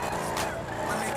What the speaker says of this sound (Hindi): गाड़ी का साउंड थोड़ा कम है